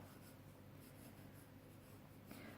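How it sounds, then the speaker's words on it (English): Steady, soft scratching of short pencil shading strokes on paper, close up and continuous, with no talking. "And again, short pencil strokes."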